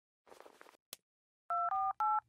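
A phone keypad dials 911: three clear, evenly spaced beeps. Some brief rustling and a click come just before the beeps.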